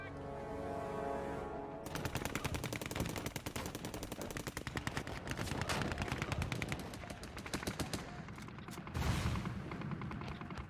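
Rapid machine gun fire rattles in long continuous bursts during a World War I battle at the Somme, dense and relentless, following a low rumbling lead-in and ending with a heavier blast.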